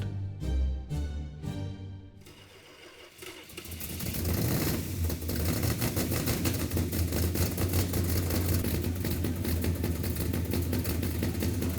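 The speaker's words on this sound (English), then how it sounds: "And fired it up on the engine run stand." A 1971 Hemi engine on a run stand cranks with a few rhythmic turns, then catches and roars into a loud, steady, rumbling idle that continues without pause.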